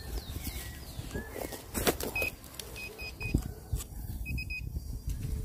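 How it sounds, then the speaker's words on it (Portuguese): A handheld pinpoint metal detector powers on with a few short, high electronic beeps, some in quick pairs and triplets, over low rustling background noise. "Vou ligar o pinpoint aqui pra ver."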